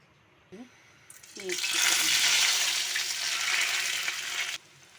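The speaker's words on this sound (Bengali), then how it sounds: "তেলগুলা গরম হয়ে উঠলে আমি পেঁয়াজ ডালে দিব" Onions hit hot oil for a prawn curry with coconut paste and burst into a loud, crackling sizzle that holds for about three seconds, then cuts off abruptly; a brief voice and clatter come just before.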